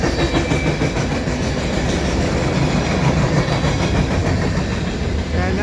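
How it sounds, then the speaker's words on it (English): A CN westbound freight train rolls past at Dorval on a sunny winter afternoon. A steady, loud rumble and clickety-clack of the wagons passing close by fills the whole stretch, with no voices. "And that's the end of the train."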